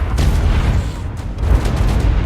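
A Celestial Ferox in ARK with the Primal Fear mod sets off explosions, giving deep, loud rumbling booms that roll continuously with a few sharper bursts and no voices.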